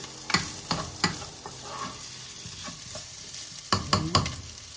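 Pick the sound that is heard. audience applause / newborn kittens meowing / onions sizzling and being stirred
onions sizzling and being stirred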